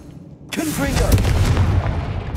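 A Confringo fire blast spell explodes in the Hogwarts Legacy video game, starting with a soft hum, then a loud, booming burst that rolls on as a heavy, crackling rumble, close and full.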